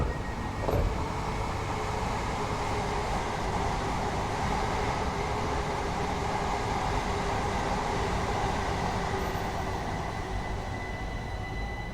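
Train arriving at a London commuter station in Train Sim World 2, a steady low rumble of rolling wheels and motors with a faint brake whine, continuous and even throughout, heard alone.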